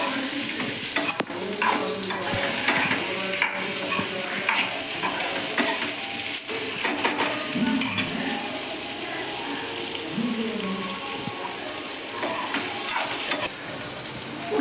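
A whole head of crushed garlic fries with boiled potatoes in a pan for a spiced potato fry, a continuous loud sizzle under repeated scraping stirs and clinks, close by, with no voices.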